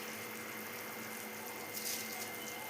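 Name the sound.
water boiling in a pot for mutton biryani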